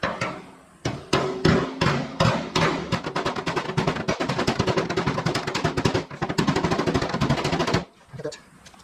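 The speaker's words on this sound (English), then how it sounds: "I'm going to take a hammer and a dolly, and I'm going to start in the middle here." Rapid, loud metallic hammer blows on a dolly shape a new fender flange on a 1969 Boss 429 Mustang, striking in a dense rhythmic series before stopping near the end.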